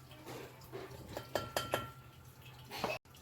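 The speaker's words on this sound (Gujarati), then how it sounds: "તો સૌથી પહેલાં આપણે આ જે બધું શાક છે તે નાખી દઈશું એમાં" Chopped vegetables for palak paneer tipped into a pan, giving a run of clinks and clatters of food and utensil against metal, with a few sharper knocks near the middle and a dull thud at the end.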